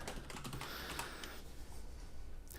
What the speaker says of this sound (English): I'm going to make it so you can't see me type my password